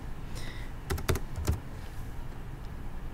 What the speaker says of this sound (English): So we're going to type in dragster